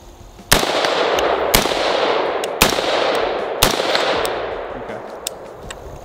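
An AR-15 rifle fires four loud, sharp shots about a second apart. Each crack leaves a long, hissing echo, and a few fainter pops can be heard between them.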